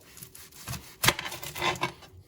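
Knife chopping an onion into quarters on a cutting board, a few close thuddy cuts with one sharp louder strike near the middle, heard alone without talk.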